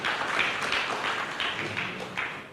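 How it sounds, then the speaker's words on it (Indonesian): A church congregation applauds together, dense continuous clapping that stays lively for a couple of seconds with slight swells, and no speech over it. "Berikan tepuk tangan yang meriah buat Tuhan."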